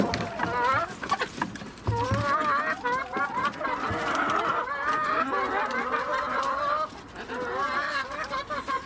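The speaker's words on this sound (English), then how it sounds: "I'm going to go and let the communal chickens out, and then I'll let my chickens out" Many hens cluck and squawk busily at close range, their overlapping calls forming a continuous, excited chorus with a few soft thumps.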